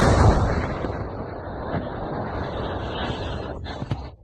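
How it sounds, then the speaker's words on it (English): Blasts at a port in St. Petersburg, a dense, rumbling roar of explosion noise that sustains throughout, with a heavy burst at the start and sharper cracks near the end, loud and fairly close. "An explosion in St. Petersburg. The port is on fire. Whoa, that was a hell of a blast."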